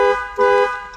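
A Jeep Cherokee car alarm sounds close and loud in two steady tonal bursts within a second, with no talking.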